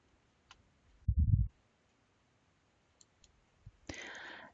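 A few faint, sparse computer mouse clicks sound during deletion of a web page in a content management editor, with a short muffled thump between them and a noisy rustle at the end.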